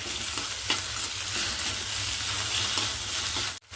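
Okra and greens are stirred as they fry in a pan for chutney, a steady close sizzle broken by a few scraping strokes, with no talking.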